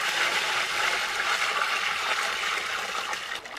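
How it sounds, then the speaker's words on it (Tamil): Water poured into a pot of fish curry on the stove, a steady gushing splash with no pauses, close and fairly loud throughout. "தண்ணி சேர்த்துக்கலாம்."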